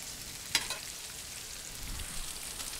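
Bacon sizzles steadily on a Blackstone griddle over medium heat, a soft broadband crackle with one sharp spatter pop near the start and a brief low scrape of a spatula later.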